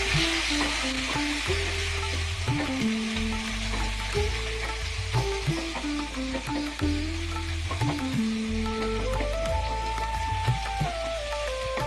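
Tomatoes and onions fry with a constant crackling sizzle as a spoon stirs and scrapes the pan in a steady rhythm, close up with no talking.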